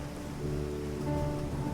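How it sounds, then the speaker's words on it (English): Heavy rain pummels down onto pavement on a late-night city street, a dense, steady hiss that fills the whole stretch with no other sounds. "the rain that pummeled onto their forms and the pavement below"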